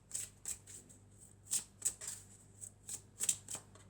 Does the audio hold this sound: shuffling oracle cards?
yes